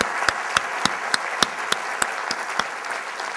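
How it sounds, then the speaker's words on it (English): Applause from a conference audience for event volunteers, sounding as a broad wash of hand claps with periodic sharper individual claps standing out at a steady rhythm, filling the room at moderate loudness with no talk. "I want to take this opportunity to get a round of applause for the volunteers who have helped put this thing together."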